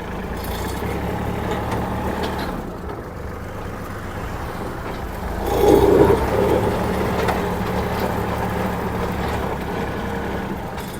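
A second-hand Kubota L2808 tractor engine runs steadily at close range, a continuous low diesel rumble with a brief swell in loudness midway, no talk over it.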